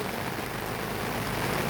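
Heavy rain pours steadily over flooded rice paddy fields where farmers transplant seedlings, a dense, close, unbroken hiss with low rumble and no talk.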